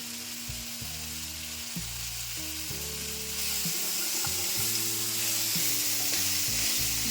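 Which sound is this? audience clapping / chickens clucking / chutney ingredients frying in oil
chutney ingredients frying in oil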